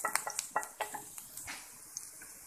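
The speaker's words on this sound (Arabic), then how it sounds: "إذا في مقلاة درت ملعقة زيت، أضفت لها شوية تاع الثوم" Garlic frying in a spoonful of oil in a pan, a soft sizzle under a run of quick stirring scrapes and taps, close and fairly quiet, with no voices.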